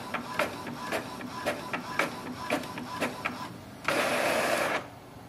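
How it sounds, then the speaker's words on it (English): Epson WorkForce WF-2950 inkjet printer printing a test page: a series of rhythmic mechanical clicks and whirs from the print head, then a louder sustained whirring rush as the page feeds out before it quiets. "Printer is working."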